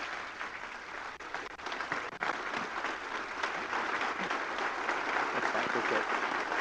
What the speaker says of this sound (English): How about a round of applause and a warm welcome, please?